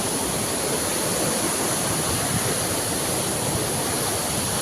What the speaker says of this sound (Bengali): ডাউকি থেকে আরেকটু সামনে আরেকটা সুন্দর একটা ওয়াটারফল, বফিল।